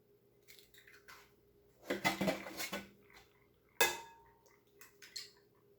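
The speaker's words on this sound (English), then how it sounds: "let's go ahead and crack a couple eggs into our bowl here." Eggs cracked into a bowl in a home kitchen, heard as a few sharp clicks and taps of shell against the rim, one louder crack midway, with faint rattles between and no talk.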